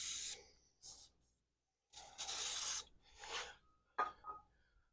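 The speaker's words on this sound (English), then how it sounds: "just get a can of carburetor cleaner, spray it right into the air taker, into the carburetor." Carburetor cleaner sprayed from an aerosol can straight into the carburetor air intake of a barn-find Snapper chipper shredder, several sharp hissing bursts of varying length separated by short silences, close and fairly loud.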